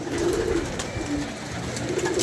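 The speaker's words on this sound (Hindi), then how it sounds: "ओए हो कितने कबूतर ऊपर निकल गए" Pigeons coo in low, soft repeated calls outdoors, close by, over a light background hiss.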